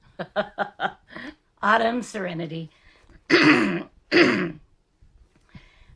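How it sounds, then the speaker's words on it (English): Someone clears their throat in a rapid series of short rasping bursts, followed by a few longer, harsher throat-clearing efforts with pauses between. "Let me clear my throat again."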